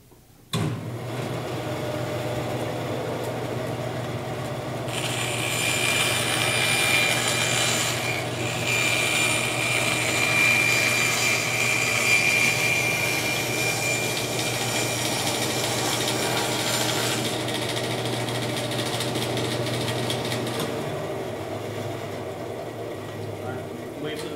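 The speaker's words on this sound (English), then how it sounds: "I'll use the bandsaw for an irregular cut" A bandsaw whines and hums steadily, its tone brightening as the blade bites into wood for several seconds before easing back to a running drone.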